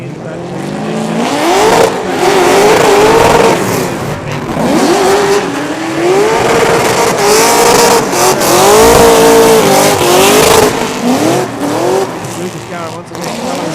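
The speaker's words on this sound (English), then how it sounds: "Here we go, the chase car starts to creep off the line." Drift cars at the Emirates Drift Championship rev hard and accelerate with rising, wavering engine howls and tire squeal, loud and close, while a commentator talks over them.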